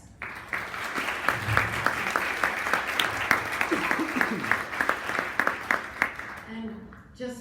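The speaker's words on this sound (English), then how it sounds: "So please join me in giving applause to our guests." An audience at a forum event applauds its guests, a steady, sustained clapping from a seated crowd that fills the room and fades out at the end, with speech heard beneath it.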